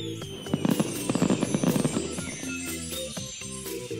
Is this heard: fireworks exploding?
yes